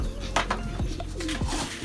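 Racing pigeons coo in a loft, several low throaty calls overlapping close by, with a few faint chirps and rustles in between.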